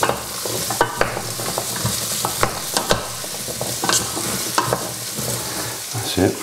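Celeriac stirred through oil in a hot pan: a steady sizzle broken by repeated sharp scrapes and clacks of a utensil at an uneven rhythm, close and loud, with no talking.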